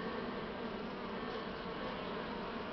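Dense, continuous buzzing of many honey bees swarming around a hive as a newly caught swarm is settled with a Buckfast queen, steady and close without pauses.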